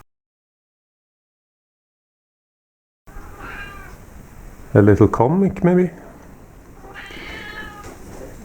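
A pet cat meows loudly several times close to the mic, one long drawn-out cry between shorter ones, and a person talks over part of it.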